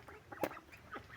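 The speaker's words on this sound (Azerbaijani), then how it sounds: "Pekin ördəyidir" Pekin ducks on a farm give a few faint, scattered quacks at a distance, soft and brief against a quiet background.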